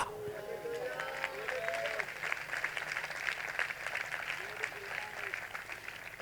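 A church congregation claps during a sermon, a dense, continuous patter of many hands that rises and holds steady, with a voice briefly heard at the start.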